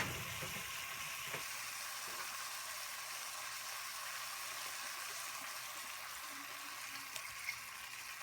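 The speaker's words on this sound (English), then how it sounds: "Chicken has been sauteing for a few minutes" Chicken sautéing for Filipino afritada, with a little soy sauce added, gives a steady broadband frying sizzle that holds evenly and quietly throughout, with no talking.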